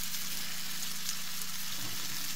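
A slice of bread, mayonnaise side down, frying in a pan over low heat, giving a steady, even sizzle with a faint continuous hum beneath, unbroken and close.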